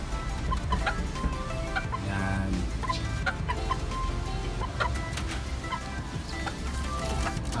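Boston gamefowl chickens cluck and chatter close by, a dense mix of overlapping clucks and short calls from several birds, continuous and fairly loud.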